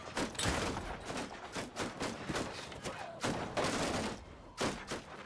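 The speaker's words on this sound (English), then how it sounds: "It's just the infantry's armour clanging against each other." Infantry armour clangs and clatters in a Mount & Blade II: Bannerlord battle, a dense run of overlapping metallic hits and heavy thuds that swell and fade in uneven bursts, with no one speaking.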